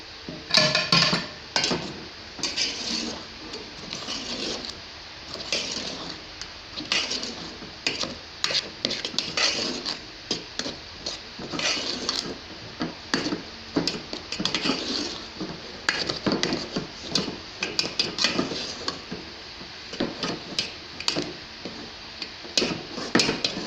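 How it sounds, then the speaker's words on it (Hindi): Maghaz panjeeri being mixed in a pan: repeated scraping and clinking of a spoon against metal, in an irregular stirring rhythm of fairly quiet strokes across the whole stretch. "अच्छी तरह से इसको मिक्स कर देंगे।"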